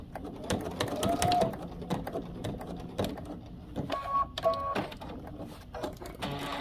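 A sewing machine stitches across a zipper on cargo pants, running in short mechanical bursts with brief pauses and a few thin whirring tones, close and fairly loud.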